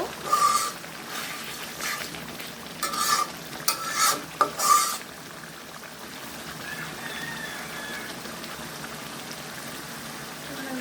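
Beef pieces drop into sizzling spice paste in a pot and get stirred, several loud clattering stirs and splashes in the first half, then a softer steady frying hiss, no talking.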